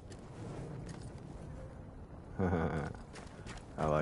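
In the Battlefield 1 game, a horse's hooves clop in a soft, quick rhythm at low volume, with a voice speaking briefly over them.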